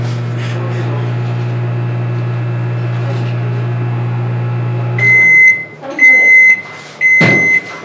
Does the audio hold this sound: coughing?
no